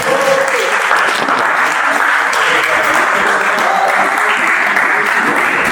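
An audience at a tribute concert applauds in a dense, sustained roar of clapping that fills the whole stretch without pause.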